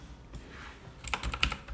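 Computer keyboard typed on while writing F# code, a short burst of quick, close keystrokes that speed up in the second half, with no talking.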